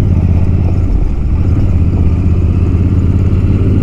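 A Royal Enfield Himalayan motorcycle engine runs steadily and loudly up close at high altitude, its low, continuous drone broken by slight irregular stumbles from a misfire.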